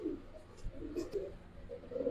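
Young pigeons coo in low, soft repeated phrases close by, a few murmuring calls spread over a couple of seconds with light room noise beneath.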